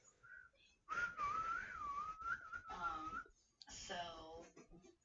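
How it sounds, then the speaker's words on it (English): Someone whistles a wavering, sliding tune indoors on a couch, close and clear for a couple of seconds, then gives a few shorter whistled notes mixed with background chatter. "Henry's whistling while they're sitting on the couch."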